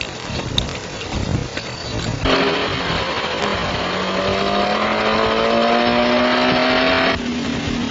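A truck engine in a 1939 Western film turns over and pulls away, its loud steady drone rising as the vehicle drives off, close and unbroken by talk.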